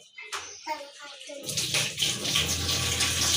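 Water gushes steadily from a tap, a continuous splashing rush, preceded by a child's and an adult's brief voices.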